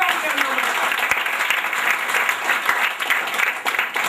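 A church congregation applauds loudly and steadily, a dense continuous wash of many hands clapping at close range, with a preacher's voice faintly mixed in.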